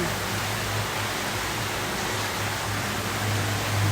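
A small garden waterfall in a park setting, steady broadband rushing and splashing of falling water that holds constant and fairly loud throughout, with no voices.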